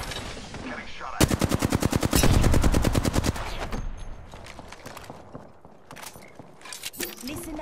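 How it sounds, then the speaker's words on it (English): Battle royale video game gunfire: a fast automatic burst of evenly spaced loud shots lasting about two seconds, followed by scattered sharper single shots, with game voice lines heard around them. "A second squad is firing at us."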